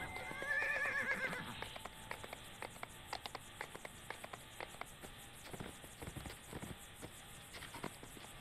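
A horse in a video game whinnies loudly near the start, then hooves clip-clop in a steady walking rhythm over a quiet ambient background.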